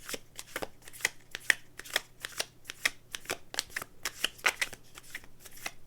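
A deck of tarot cards is shuffled by hand in a quiet room, a rapid, steady run of soft riffling snaps and slaps lasting several seconds, close and alone with no talking.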